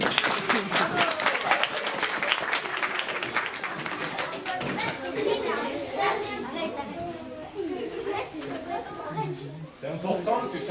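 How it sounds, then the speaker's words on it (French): An audience of children claps together, a burst of applause that thins into scattered claps mixed with kids' chatter and voices through the rest of the stretch. "C'est important que quand ça vous plaît, vous applaudissiez."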